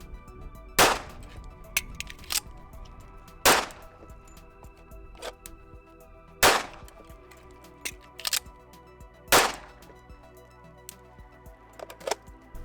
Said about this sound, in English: you're going to draw, fire 1 round on 9, do an empty gun reload, and then 1 round on 10